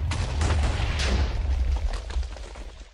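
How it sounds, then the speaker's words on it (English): A TNT missile explodes in Minecraft as a dense, rumbling blast with crackling bursts, loud at first and then slowly fading over a few seconds. "Explosion."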